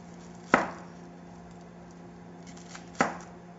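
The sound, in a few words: knife chopping an onion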